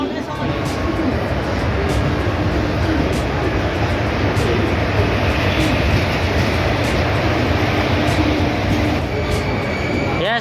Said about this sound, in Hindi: यस तो अपनी ट्रेन आ चुकी है